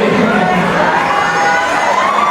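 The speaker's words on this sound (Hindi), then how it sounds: "एक बार जोरदार तालियां" An audience at a motivational speech event cheers and shouts loudly throughout. Energetic whoops and crowd noise blend into a dense, continuous roar with no single speaker.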